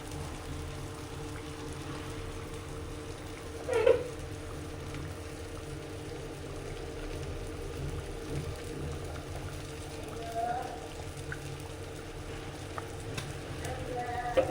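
Sardine curry with coconut, mango and kudampuli swirled in a clay pot: a soft, steady simmering sizzle with a brief scrape near the start and faint stirring later, quiet and without speech.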